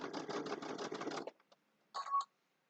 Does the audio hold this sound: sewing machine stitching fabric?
yes